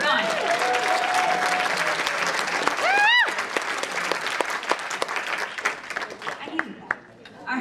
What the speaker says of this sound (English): I think we can clap a little louder than that.